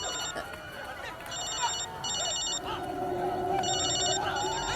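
A mobile phone rings with a repeating electronic trill in bursts, close and clear over a low background hum, with no speech.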